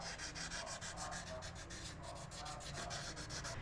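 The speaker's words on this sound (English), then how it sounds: "Then for cleaning treatment with sandpaper." Sandpaper rubbing over a car spark plug during cleaning, a steady rapid scratchy rasping of repeated short strokes, close and continuous throughout with no talking.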